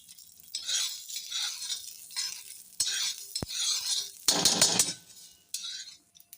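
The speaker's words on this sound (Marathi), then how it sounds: "त्यानंतर हे जे मसाले मी मगाशी दाखवले ते देखील यासोबतच भाजून घेऊया." Whole spices are dry roasted in a pan with garlic, a utensil scraping and stirring in irregular bursts with faint sizzling and occasional clinks of metal against the pan, heard close and alone.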